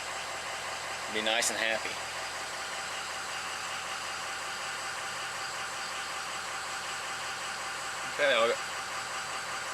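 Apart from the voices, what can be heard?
truck engine idling after high pressure pump repair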